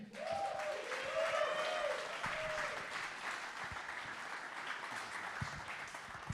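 An audience applauds a Bitcoin mining speaker at a tech presentation, a steady wash of clapping that stays loud throughout, with a brief tonal whistle-like sound near the start.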